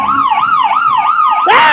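An ambulance siren wails loudly and close by in fast, regular rising-and-falling cycles, then a harsher burst of noise cuts in at the end.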